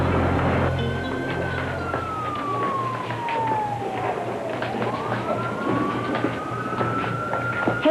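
A fire truck siren wails nearby, its pitch sweeping slowly down and then back up over steady road and engine rumble, loud and close, with no talking.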